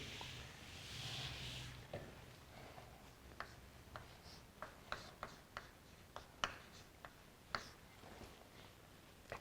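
Chalk or pen writes out the Taylor polynomial formula in a calculus lesson, faint scratching with a series of small, close taps and strokes in an irregular rhythm and no speech.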